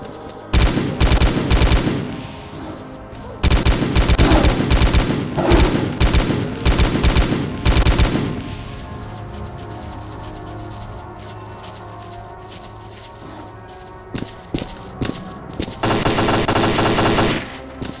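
Bursts of automatic rifle fire from the video game S.T.A.L.K.E.R. Call of Pripyat, loud and close, in rapid rattling volleys separated by pauses and tapering into scattered single shots, ending with another dense burst.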